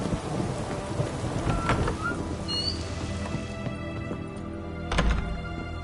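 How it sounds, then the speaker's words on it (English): A thunderstorm in the video game The Witcher 3: steady heavy rain patters throughout while rolling thunder rumbles, with a loud crack of thunder near the end. "A storm, damn it."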